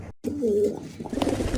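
A pigeon gives a short, soft, low coo, close and alone, with faint rustling around it.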